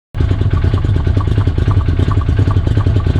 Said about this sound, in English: pretty much just a big gun exhaust, just a muffler, not just a slip-on